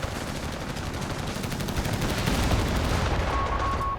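A Crusader tank in Company of Heroes 3 fires continuously, producing dense, rapid gunfire that blends into a loud, unbroken rattle throughout.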